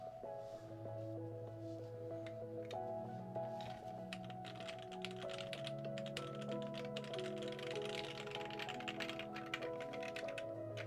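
Mechanical keyboard switches on a Crown TKL build clatter in continuous, rapid typing, each keystroke a crisp click with loud upstrokes, over faint tonal background music.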